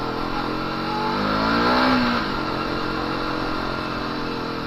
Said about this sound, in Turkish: Arkadaşlar motor gidiyor.